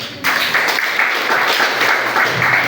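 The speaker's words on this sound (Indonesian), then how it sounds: "saya ucapkan selamat kepada aplaus dulu dong buat panitia kita" An audience at a table tennis league team championship event claps and applauds for the organizing committee, a steady dense wash of many hands clapping at close range, with no one speaking over it.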